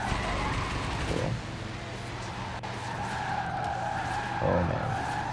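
A car skids and spins out in the Forza Horizon 4 video game on a Cotswolds road rally trail. Long tire squeals come in two bursts over a steady engine drone, with brief faint speech.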